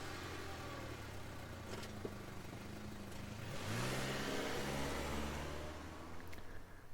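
Car driving in the horror visual novel game Scarlet Hollow, a steady engine drone with a swelling rev partway through, continuous and fairly close, no talking.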